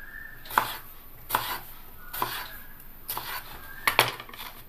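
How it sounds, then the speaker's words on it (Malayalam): A knife cuts a green tomato lengthwise on a board, making five distinct, evenly spaced chops. Each stroke ends in a crisp knock against the board, and the room is otherwise quiet. "ഞാനിതിപ്പോൾ ഇച്ചിരി നീളത്തിലാണ് അരിയുന്നത്"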